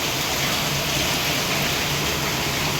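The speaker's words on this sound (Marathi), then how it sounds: "परत रात्रीचा पाऊस स्टार्ट झालेला आहे" Steady, dense night rain hissing evenly on surfaces throughout, a constant wash of noise with no voices.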